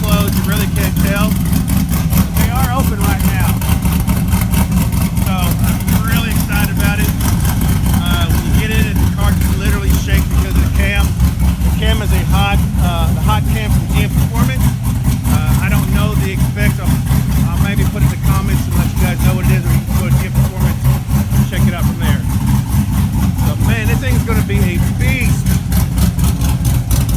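A car engine with its exhaust open idles loudly and close, with a rapid pulsing rumble and occasional revs throughout, while someone talks over it.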